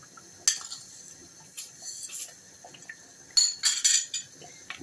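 A metal utensil clinks and scrapes against a pot of boiling ketchup-style sauce in a few short bursts, with quiet bubbling in between and no voices.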